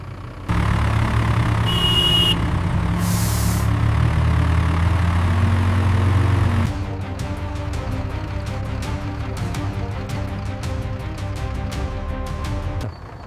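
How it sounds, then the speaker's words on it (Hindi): An Ashok Leyland truck drives steadily with a loud, droning engine hum, then shifts to a rougher, rattling rumble partway through, close and continuous with no talk. "ये अशोक लीलैंड है और चलाने वाले तुम हो। ये पहाड़ चढ़ सकता है तो गांव की सड़क क्या चीज है? मोड़ लो गाड़ी।"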